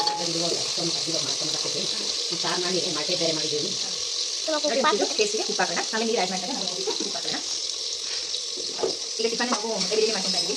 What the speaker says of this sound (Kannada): ತುಂಬ ಫ್ರೈ ಆಗಿದೆ ಈಗ ಟೊಮೆಟೊ ಹಾಕೋಣ ನಾವು